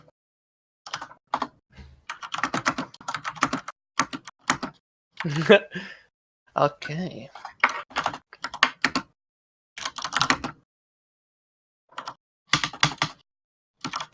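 Keyboard typing clatters in short bursts spread through the stretch, close and fairly loud, interleaved with casual conversation among several people during a tabletop dice game session.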